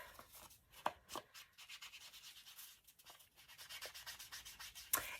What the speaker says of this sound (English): So now I'm going to distress with walnut stain all around.